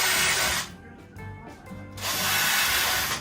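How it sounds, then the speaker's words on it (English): A power drill bores out a wooden base piece held in a drill jig, a loud, close whine that drops off mid-clip to quieter rubbing and rattling, then surges back at full volume for the last second. "That piece gets drilled out,"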